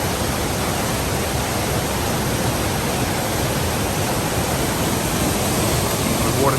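Rushing water of the Fishery Falls waterfall stream in Queensland, pouring fast over massive boulders, a loud, steady, unbroken roar filling the whole clip with no voices.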